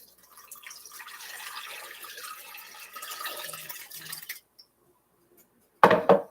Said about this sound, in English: pour in the water.